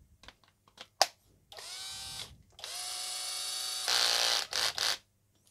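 A cordless power drill, a pre-owned handpicked unit being tested on bench power instead of its weak battery, whirs in several close bursts with a rising pitch, separated by clicks and short pauses.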